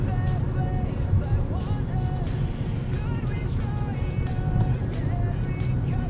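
A Hyundai Creta 1.4 S+ engine idles with a steady, low rumbling hum that holds an even level throughout, heard from nearby.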